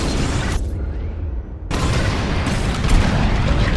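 Bombs dropping and detonating in the space combat game Star Wars: Squadrons: loud booming blasts with rumbling roar, a short lull, then another heavy wave of explosions continuing to the end.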